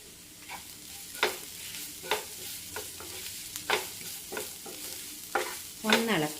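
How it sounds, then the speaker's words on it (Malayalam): Potato with crushed coconut, onion and green chilli stirred in a pan, a soft frying hiss under repeated scraping strokes of a spoon, close and alone. "ഒന്ന് ഇളക്കി കൊടുത്തു."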